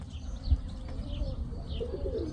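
Pigeons coo softly in low, rounded calls over faint background noise, with light chirps and a brief flutter of wings, seemingly from a loft of Mykolaiv high-flying pigeons.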